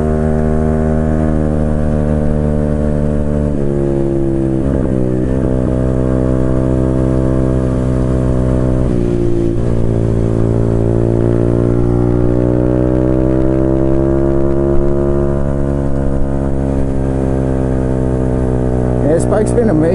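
A small learner motorcycle engine runs steadily under a rider, a droning buzz with gentle rises and dips in pitch as revs change, loud and continuous, with the rider talking over it.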